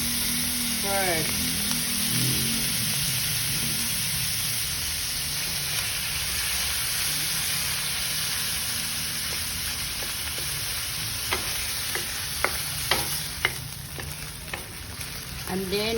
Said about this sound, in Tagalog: So, we try to cook this ground pork and beef